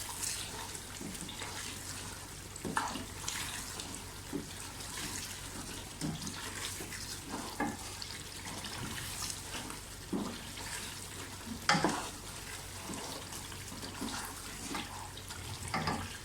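Mutton and onions being stirred and sautéed in a pot for aloo gosht, a quiet continuous sizzling wash broken by occasional scrapes and clinks of a spoon.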